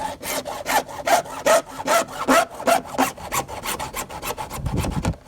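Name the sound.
hacksaw cutting a privacy fence panel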